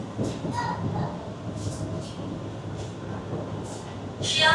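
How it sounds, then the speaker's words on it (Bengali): An AC local train pulls out of Barasat Junction station, its steady low rumble and carriage rattle filling the background, with faint hissing bursts and a louder swell of hiss near the end. "The train is now departing."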